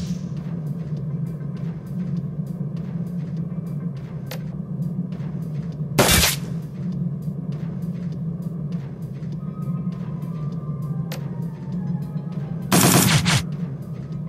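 Gunfire in the video game Shadowrun: Dragonfall: sharp, evenly spaced shot clicks tick over a constant low hum, broken by two loud, brief bursts of fire.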